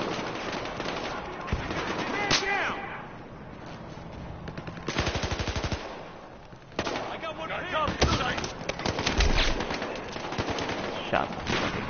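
Rapid automatic gunfire and single shots from Battlefield Hardline, a cops-and-robbers shooter, come in loud repeated bursts across the whole stretch, with a voice talking over some of the shooting.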